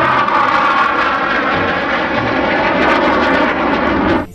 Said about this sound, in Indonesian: di sini ada pesawat tempur. Ayo teman-teman, kita take off.